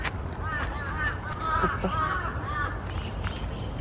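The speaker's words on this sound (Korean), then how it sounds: "까마귀지" A crow caws outdoors among trees and flowers on a breezy day: several harsh calls spread across the clip at moderate distance over a steady rumble of wind.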